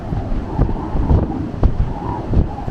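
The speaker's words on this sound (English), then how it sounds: "you can probably hear the wind actually. How it's kind of whistling through the gaps in the ship." Wind gusts whistle and buffet around a P&O Iona cruise ship on a choppy sea day off Norway, with waves rushing in the background and loud, uneven surges.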